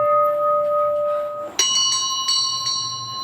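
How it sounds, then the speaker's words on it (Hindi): A bright bell rings out clearly, then strikes again a couple of times, each ring sustaining with shimmering overtones. "ये आवाज ये तो नागलोक की घंटी है।"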